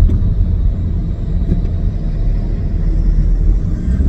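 Cars and trucks roll past in stop-and-go traffic, heard from inside a car as a steady low rumble of engines and tires with a few soft thumps, close and continuous, with no talk.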